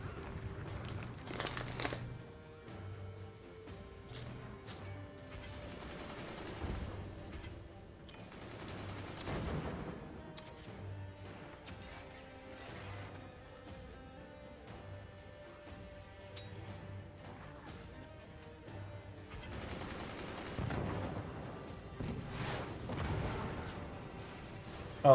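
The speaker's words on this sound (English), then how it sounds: "Goddamn, I love cannons." Video game cannons fire in scattered booming volleys with crackling, crumbling debris between them, moderately faint and spread over the whole stretch with no talking.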